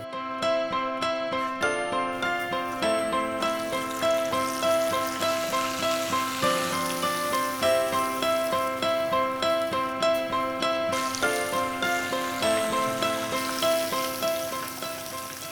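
Batter-coated prawns deep-fry in hot oil in a home kitchen, a steady dense sizzle and crackle throughout, with faint tinkling sounds layered over the frying.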